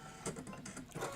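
Embroidery machine sewing a placement stitch, a quick run of close, rapid mechanical needle clicks and whirring over about a second, with no talking.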